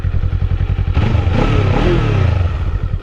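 A Kawasaki Eliminator 450 from 2024 with its stock exhaust pipe and very low mileage idles close up with a steady pulsing beat, then revs up briefly and settles back to idle.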